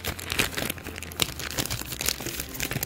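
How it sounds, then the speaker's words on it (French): A plastic bag is folded by hand, giving close, continuous crinkling and rustling with a few sharper crackles throughout and no voices. "C'est comment plier les sacs de plastique."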